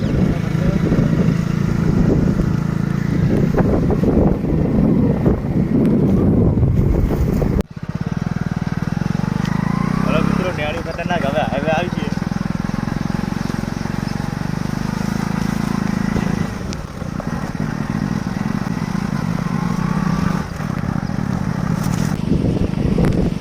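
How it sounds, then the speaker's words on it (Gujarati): Motorcycle riding along a rural farm road, a loud, close, continuous engine drone mixed with wind buffeting and bumps, shifting in tone partway through the ride. "આપણે હવે બાઇક જવા દેવાનું છે"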